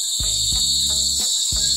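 Crickets chirp loudly and continuously in a high, dense trill, with soft low thumps of footsteps or handling beneath.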